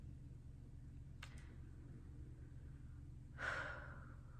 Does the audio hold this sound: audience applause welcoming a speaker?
no